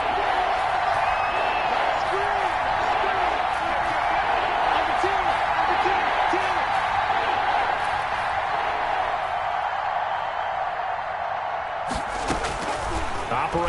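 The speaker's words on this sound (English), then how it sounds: "the crowd getting into it as we come up on a big 3rd down" A football stadium crowd roars steadily through a Falcons game as a big third down approaches, a dense, sustained wall of cheering and noise with a sharper burst near the end.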